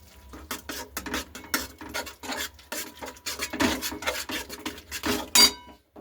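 Spices and ground spinach paste being stirred and fried in a pan for a Bengali egg and spinach curry: irregular scraping and rubbing strokes of a spoon against metal, with soft sizzling between, close and alone.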